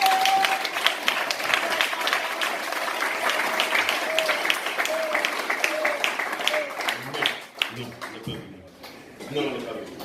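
A church congregation breaks into sustained applause, dense and loud throughout, with a lone sung or shouted voice rising briefly over it before the clapping thins out near the end.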